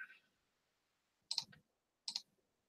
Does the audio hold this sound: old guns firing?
no